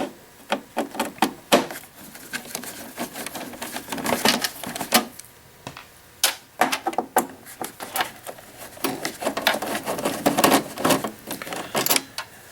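Torx T15 screws being loosened and removed from the stainless steel cup warming plate of a Jura espresso machine, with close, dry clicking and scraping taps that come in irregular bursts.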